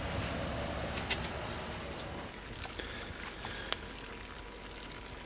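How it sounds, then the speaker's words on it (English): Water runs in a steady, fairly quiet rushing flow to irrigate hop plants, with a few faint clicks and drips on top. "So I'm just going to turn on the knob and we'll get started watering."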